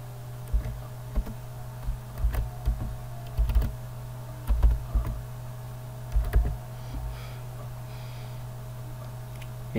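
Someone types on a computer keyboard, irregular bursts of key clicks and a few sharper taps spread across the clip over a steady low hum, close by and without speech.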